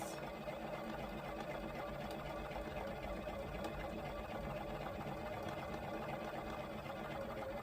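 Sewing machine stitching fabric on a 1/4 inch seam for a quilt wallhanging, a faint, steady, fast whirring hum that runs without a break.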